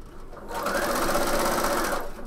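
A sewing machine stitches piping onto a bomber jacket, running steadily and close for about a second and a half before stopping.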